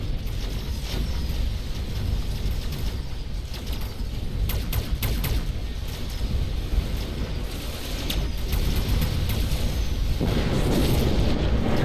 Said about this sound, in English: Wow, massive explosion.